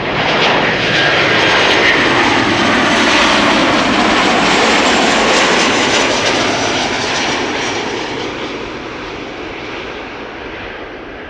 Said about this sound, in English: Will they use the reversers? They often do. You should be able to hear them quite well